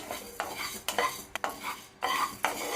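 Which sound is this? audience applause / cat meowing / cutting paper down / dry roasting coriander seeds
dry roasting coriander seeds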